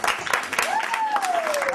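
An audience at a sales training event applauds with a dense patter of claps, and a rising then falling whistle cuts through the clapping.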